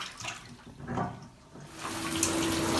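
Running water pours over a backpack frame and bag in a tub, rinsing detergent off with a steady splashing rush that swells and dips as the gear is moved under the flow.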